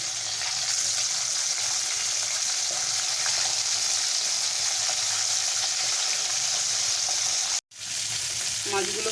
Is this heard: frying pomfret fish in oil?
yes